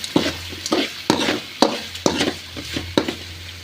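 A spoon stirs dal with turmeric and salt in a pan, giving about eight sharp scraping strokes at a steady rhythm over a low sizzle, close and clear with no talking.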